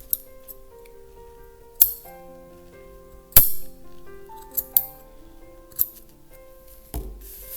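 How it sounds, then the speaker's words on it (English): Scissors trim crochet yarn ends in quiet, close, crisp metallic snips, about half a dozen spaced irregularly. "I just trim them here a little bit at a time just to make them"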